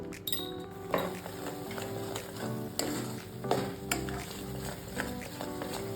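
Mohanthal mixture being stirred in ghee over a slow flame, with a steady soft scraping and gentle sizzle punctuated by occasional clinks of the spoon against the pan, close and continuous.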